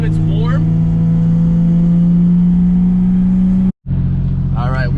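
A Toyota 2JZ-engined car cruises on the road with a steady droning engine hum and road rumble from inside the cabin, cutting out abruptly for a split second before resuming, with a person's voice briefly heard over it.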